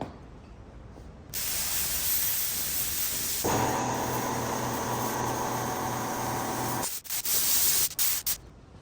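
Paint sprayed onto a Land Rover Defender 300 Tdi, a close, loud continuous hiss that shifts in tone midway, then breaks into short bursts before stopping, with no talk.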